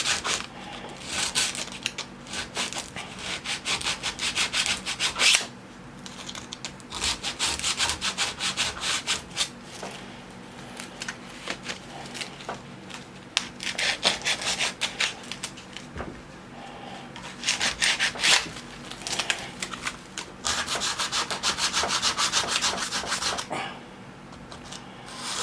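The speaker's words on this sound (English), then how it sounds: "I'm just going to fold the sandpaper and I'm just going to gently clean the blade." Folded sandpaper rubbed up and down along the edge of a Ryobi HPL52K electric hand planer blade, a close, steady scratchy rasping in repeated strokes with brief pauses between bursts and no talking.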